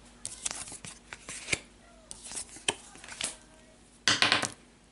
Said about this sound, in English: Let me draw some cards here.